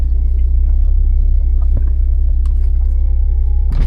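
A BMW 340i engine runs after a dead battery, giving a deep, steady, close rumble with no clear rise or fall across the few seconds.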